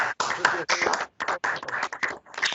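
Bursts of clapping from a few hands come in uneven clusters with short silent gaps between them. It sounds close and thin, like a small group applauding at the end of a debate.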